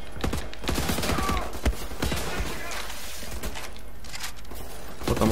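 Automatic gunfire in the shooter Wolfenstein: The New Order crackles in a dense, rattling volley of sharp shots that keep going for several seconds, with someone talking over the top.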